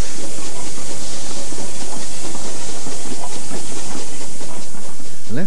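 Steam locomotive departing a station on the LSWR main line out of Waterloo, heard as a broad continuous hiss of steam with faint rail clatter, steady and fairly loud with no talk.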